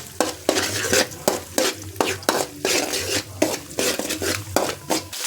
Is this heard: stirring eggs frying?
yes